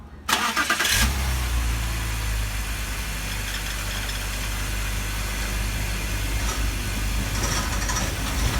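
A 2004 BMW Z4 fires up after a thermostat replacement: a brief starter crank catches into a loud burst, then the engine settles into a steady, close idle with no talking.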